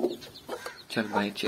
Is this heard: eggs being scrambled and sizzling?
no